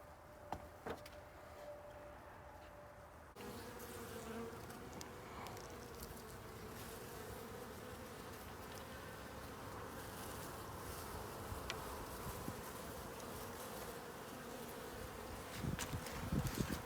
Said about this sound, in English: There are so many bees inside this queen cage, which is good because that tells me that the queen was released.